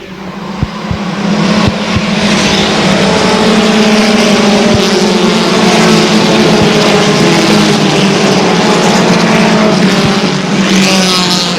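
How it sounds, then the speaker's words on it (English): Race cars roar past together at Airborne Speedway during a 1999 oval race, a loud continuous engine drone with layered whining tones swelling and fading as the pack of cars battles close by. "Up front, it's Don Phaneuf in a 4-car battle for second."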